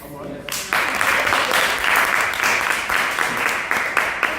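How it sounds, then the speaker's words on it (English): A conference audience breaks into sustained, loud applause after a brief quiet start, with many hands clapping steadily throughout. "I just want to start off by just giving a mighty round of applause to the Lord Jesus Christ"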